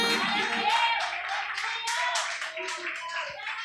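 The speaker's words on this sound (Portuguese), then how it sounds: "pode aplaudir o Senhor" Church congregation clapping together, a burst of hand claps rising and then thinning out over a few seconds, with some overlapping voices.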